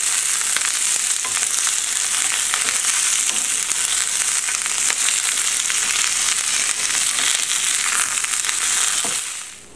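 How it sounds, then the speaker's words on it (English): String beans charring in a hot pan give off a loud, steady, crackling sizzle that runs without a break before cutting off at the end. "We're going to let it get some good char marks on it."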